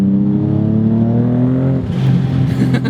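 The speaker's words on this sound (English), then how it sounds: "you have to get the blow-off valve on camera" A twin-turbo Nissan 350Z revs up loudly with rising engine tones, then drops off as the throttle closes, followed by a brief whooshing release from the blow-off valve up close.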